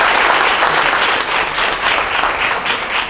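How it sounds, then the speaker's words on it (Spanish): Loud, dense applause from the audience at an open public talk, honoring the doctor who spoke; continuous clapping with slight swells, no voices over it. "Le damos un aplauso."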